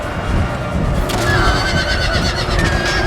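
A horse neighs loudly in the battle game Empire: Total War, a rising, shrill whinny over a rumbling backdrop of battle noise and hooves, close and prominent.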